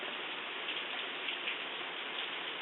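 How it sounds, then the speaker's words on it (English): Heavy rain pouring down outdoors around a yard, a dense, steady hiss of drops with faint patter on surfaces and no voices. "How about this rain?"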